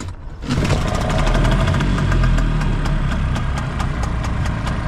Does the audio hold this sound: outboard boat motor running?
yes